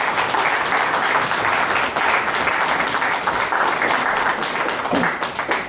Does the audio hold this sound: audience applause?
yes